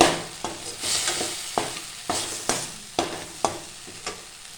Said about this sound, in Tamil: மிளகாத்தூள் சேர்த்து நல்லா பிரட்டிட்டு